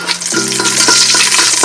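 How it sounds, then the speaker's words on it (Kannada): Garlic sizzles loudly in hot oil for a tempering, a brief, dense frying hiss with the scrape of stirring and no voices. "ಸ್ವಲ್ಪ ಫ್ರೈ ಮಾಡ್ಕೊಳ್ಬೇಕು ಬೆಳ್ಳುಳ್ಳಿಯನ್ನು."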